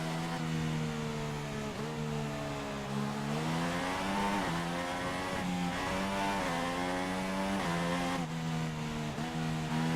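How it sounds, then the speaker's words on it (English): Formula 1 race cars in F1 2016 career mode: a loud, continuous engine whine rising and falling with gear shifts and acceleration, close and sustained throughout with no talk. "But Perez has zoomed straight up to the back of me."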